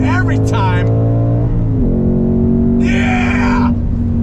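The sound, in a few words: Ford Mustang Mach 1 engine accelerating through third gear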